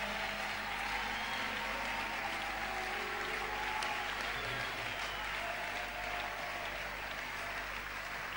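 A church congregation claps and cheers for the Lord during a sermon, producing dense, sustained applause that fills the room at an even level from start to finish.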